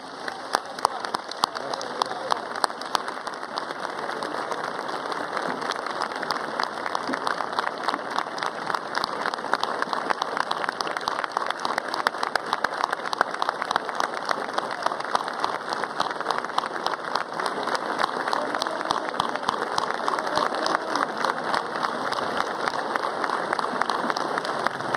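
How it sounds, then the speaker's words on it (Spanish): A large outdoor political rally crowd in Tierralta, Córdoba applauds continuously for about a minute, a thick uniform roar of clapping that stays loud and even throughout, with no pauses. "yo solicito, señor presidente, un minuto de aplausos por la mayora Carmelina"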